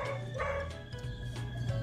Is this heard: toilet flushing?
no